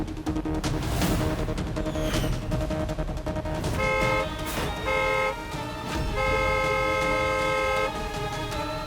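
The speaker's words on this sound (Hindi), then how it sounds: "इतनी देर से हॉर्न बजा रहा था वो गाड़ी वाला" Car horns honk repeatedly in street traffic, with several short toots followed by longer sustained blasts over a busy road background.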